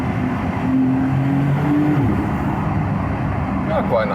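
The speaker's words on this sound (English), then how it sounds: "We all know the 911 in general is not known for the best sound overall." A Porsche 911 Turbo S (992) engine drones loudly and steadily from nearby, a deep rumble with rising whine, heard from inside the car with the window lowered.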